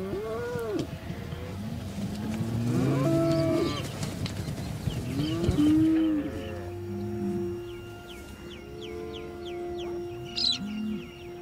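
Cattle on an Australian dairy farm moo repeatedly, several calls spread across the scene at close to middle distance, with birds chirping in the background and no talk.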